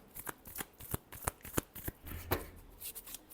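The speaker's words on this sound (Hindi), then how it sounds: "last shuffle" Tarot cards being shuffled close up, a quick run of crisp riffling flutters and soft slaps repeating rhythmically for a few seconds, with no talk.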